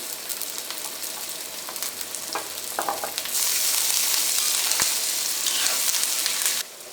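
Onions sautéing with crushed garlic, ginger and curry leaves in a pan for Kerala kadala curry, a close hissing sizzle that grows louder and denser midway, with a few light stirring scrapes and no speech.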